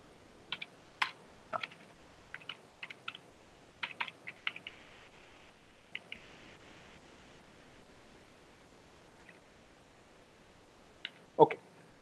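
Commands are typed on a computer keyboard at a terminal, with sharp, separate key clicks in short bursts and pauses, fairly close and quiet against a soft background hiss.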